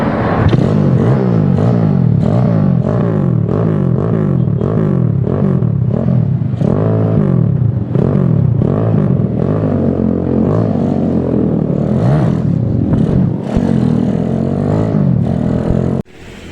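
A steady, loud engine drone from a motorcycle with an SND ZS 190 engine runs throughout with rhythmic pulsing and slight revving, cruising along a road, ending abruptly.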